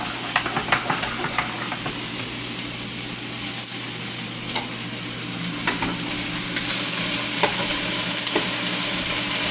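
Honey garlic chicken sizzles loudly in a pan while being stirred, a dense steady frying hiss with intermittent scraping and clinks up close, no talking.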